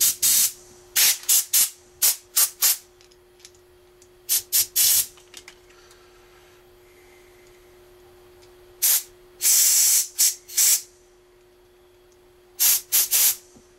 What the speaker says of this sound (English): We'll blow them out with compressed air.